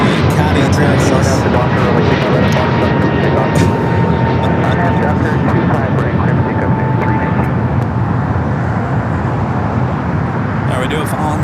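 Boeing 787 Dreamliner at LAX, a loud, broad, steady jet roar filling the whole stretch, with a voice talking over it.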